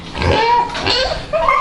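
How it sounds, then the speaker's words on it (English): Rosie the pet pig gives a run of close, loud grunting oinks, with short snorts and squeals breaking up the continuous noise. "Wondering what that noise is. That's our pig Rosie."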